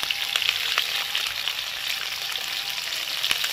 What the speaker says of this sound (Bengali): দেখো পেঁয়াজ আর ক্যাপসিকামটা একটু ভেজে নিয়েছি